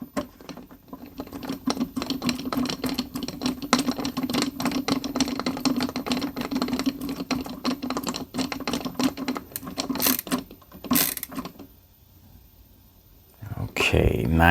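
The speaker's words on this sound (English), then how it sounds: "Get our top screw in." Screw being driven into a digital safe, with a rapid, steady rattling whir from a power driver running for several seconds, pausing briefly, then ending with a few short bursts.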